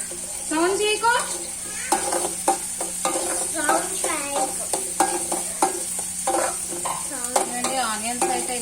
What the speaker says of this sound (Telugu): ఆనియన్స్ అయితే ఇలా ఫ్రై చేసుకుంటున్నానండి. ఈ ఆనియన్స్ కొంచెం బ్రౌనిష్ కలర్ లో వచ్చే వరకు ఫ్రై చేసుకోవాలి.